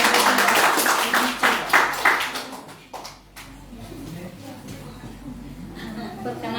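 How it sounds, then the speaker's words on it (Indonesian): A congregation at a Sunday service in GMI Imanuel church, Banjarmasin, breaks into dense applause for a few seconds that thins out and gives way to speech and room murmur. "Tepuk tangan. Tepuk tangan."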